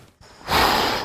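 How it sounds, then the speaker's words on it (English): A single sharp, forceful breath is pushed out during a beginner kettlebell workout at home. The close, breathy rush starts suddenly after a brief quiet moment and stays loud to the end. "and we breathe out."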